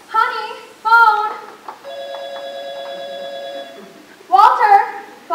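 A telephone in a home kitchen rings with a steady electronic tone for about two seconds, sounding between stretches of a voice calling out before and after it.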